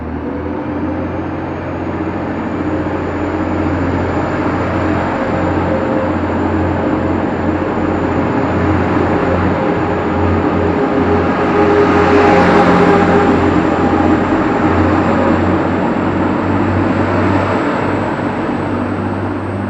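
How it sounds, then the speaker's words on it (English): A double-unit Class 185 diesel multiple unit pulls out of Warrington Central station bound for Lime Street, its steady engine drone and low rumble loud and close, swelling slightly midway as it gets under way, with no voices. "Train now departing is double 185"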